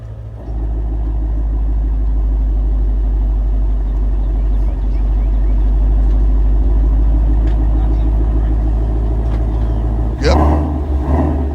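A 2016 Shelby GT350 drives around the block, its engine a steady deep rumble heard from inside the car for about ten seconds before a sharp clunk near the end.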